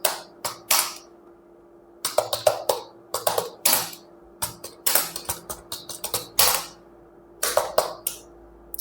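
Fingers tap out an Excel REPLACE formula on a computer keyboard, sharp clicking keystrokes in quick bursts separated by short pauses, close and crisp over a faint steady hum.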